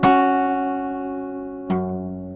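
One ringing open-string chord on an acoustic guitar in a fingerstyle song arrangement, decaying slowly until a sharp percussive slap chord cuts in near the end, close and with no voices.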